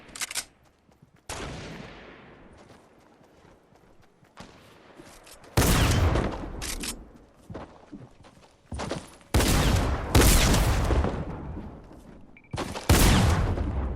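Shotgun and other gunfire in the video game Fortnite, sharp loud blasts in separate bursts with quieter gaps between, some shots in quick clusters, no talk.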